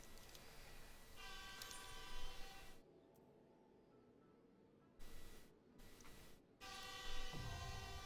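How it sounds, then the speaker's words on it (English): A train in the Final Fantasy XIV video game rumbles past with a tonal horn-like whine, cutting in and out in bursts against quieter game ambience. "Oh, there's a train."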